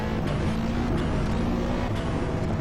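Modified RUF CTR Yellowbird in the racing game Assetto Corsa, a steady engine drone with a faint hiss of turbo on top, moderate and continuous, no talking.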